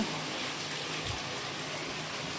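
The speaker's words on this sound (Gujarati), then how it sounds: "ત્યાં તો વરસાદ શરૂ થઈ ગયો" Steady rain pouring down, a dense continuous hiss of drops on surfaces, with no voices.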